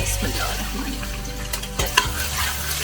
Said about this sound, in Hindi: ऑयल गर्म हो जाए तो फिर उसके अंदर प्याज जाएगी